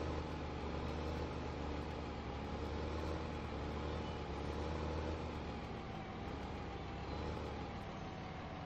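A tractor engine in Farming Simulator 15 on the Massie, Ontario map runs in a steady, continuous drone, with no talking.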